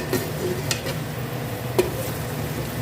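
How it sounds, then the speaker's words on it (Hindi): Onions frying in a pot until golden brown give a steady soft sizzle, broken by a few sharp stirring clinks of a spoon against the pot, with no voices. "जैसे ही हमारी प्याज गोल्डन ब्राउन होती है"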